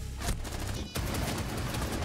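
Automatic rifle fire in the video game Rainbow Six Siege, a continuous rapid stream of loud shots with a brief gap near the start, close and sustained.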